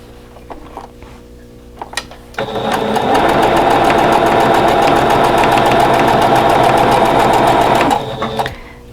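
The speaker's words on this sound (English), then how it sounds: "I'm going to sew right on that diagonal line" A sewing machine stitches fabric along a diagonal line for a quilt block, a few quiet clicks giving way to a loud, steady rapid whir of about five seconds that stops abruptly, heard close with no talk.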